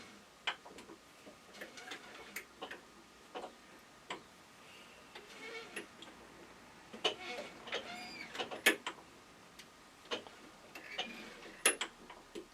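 A lathe cutting the final thread on a scratch-built Gauge 1 live steam part, giving quiet, irregular ticking and scraping clicks spread across the whole stretch with no talk.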